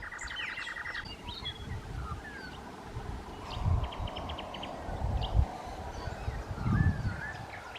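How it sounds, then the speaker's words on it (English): A Pacific buzzer bird calls from a dead tree in koala country, giving bright repeated chirps and a short buzzy trill that stand out over a steady outdoor background with other birds chirping now and then. "Listen to the noise. Just gorgeous. Now that is a Pacific buzzer."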